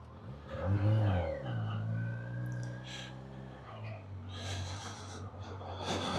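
A 2025 Kawasaki Versys 1100 motorcycle pulls away with an engine rising and settling in pitch, heard close with wind rush and hiss building toward the end.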